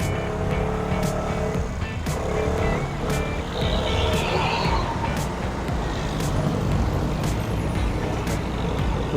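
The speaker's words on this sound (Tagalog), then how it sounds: "Ito na yung medyo traffic." Busy street traffic on Bonifacio Street near Session Road in Baguio, with a steady roar of car and truck engines and repeated sharp bursts of truck air brakes hissing through the din.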